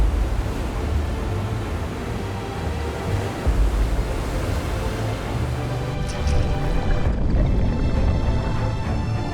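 A storm-driven ocean off the Nova Scotia coast during Hurricane Teddy, with roaring surf and heavy wind rumbling continuously and loudly, with no pauses.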